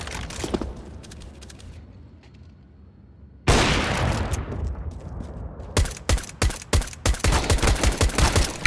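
Video game gunfire: a quieter opening stretch gives way to a loud sudden burst, then a run of sharp rapid shots in quick bursts, close and dominant with no talk over them.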